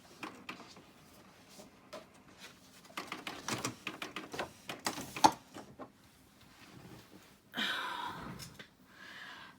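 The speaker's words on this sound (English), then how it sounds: "My printer will make a hell of a noise" A home printer runs through a craft print job of flower images, giving a close series of uneven mechanical clicks, whirs and clunks, ending in a louder sustained whirring stretch and a short burst of feed noise.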